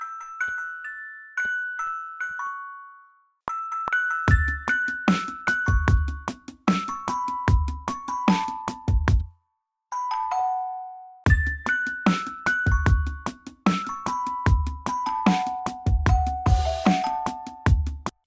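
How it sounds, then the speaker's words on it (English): Lo-fi bell synth in a music production session plays bright melodic chiming notes in phrases over a steady beat with deep kick and bass, pausing briefly between sections before resuming, clear and upfront. "I think I want some kind of lo-fi bell sound."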